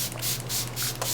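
Makeup setting spray is misted onto a face in a steady, close hiss with faint rhythmic pulses of repeated pumps, set against a low background hum.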